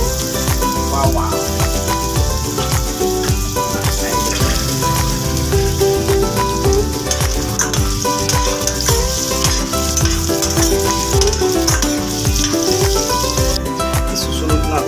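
Garlic frying in hot cooking oil for a native chicken tinola, a loud, dense, steady sizzle with crackling pops that runs unbroken throughout.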